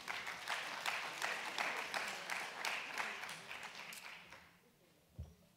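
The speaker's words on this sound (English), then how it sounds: "A big round of applause for Funda Wande." Sustained clapping from an audience, steady and moderately loud, fading away toward the end into near silence with a thump.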